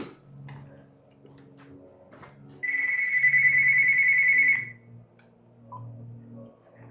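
A single electronic telephone ring, loud and steady for about two seconds, marks an incoming call-in on a live broadcast show, sitting between stretches of quiet background talk.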